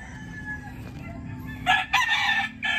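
Backyard hens cluck nearby over a low background hum, a rooster's crowing call rising in short bursts near the end.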